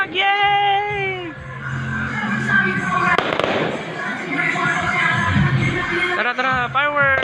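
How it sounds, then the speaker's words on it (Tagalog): Fireworks crackle and burst at a festive outdoor display, with a sharp bang near the middle. Excited voices cheer and shout throughout. "Telaling! Fireworks!"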